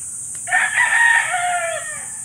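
A rooster crows once nearby, a loud, drawn-out call that rises and trails off, with a brief cluck just before it against a quiet rural background.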